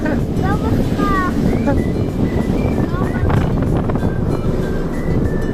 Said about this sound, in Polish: ale ci wiatr włosy zwiewa